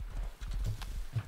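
Hooves of a horse in the Rust video game clop in a quick uneven rhythm of soft thuds, fairly faint and heard without talk.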